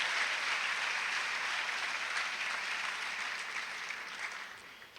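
A graduating eighth-grade class is applauded by the audience at a school graduation ceremony, dense continuous clapping that gradually fades toward the end.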